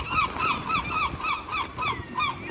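Seagulls being fed bread in Stavanger Park, Norway, give a rapid run of repeated, nasal, honking calls, fairly loud and close, over a busy outdoor background.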